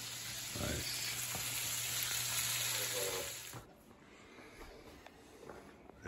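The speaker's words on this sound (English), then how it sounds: "then we fry them a little bit" Blanched green beans fry in a pan with a loud, steady sizzle that drops off sharply partway through, leaving quieter crackling and faint stirring sounds.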